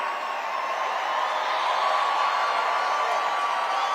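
A large rally crowd in Washington cheers and applauds steadily for a Trump family member, a dense, even roar of clapping and whoops held at one level throughout.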